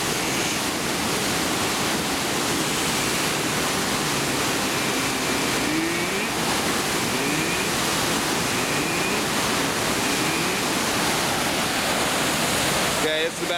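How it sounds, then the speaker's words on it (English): Turbulent water churns with heavy splashes, a loud continuous roaring wash close by, broadband and unbroken across the whole stretch. "Getting some heavy splashes in there."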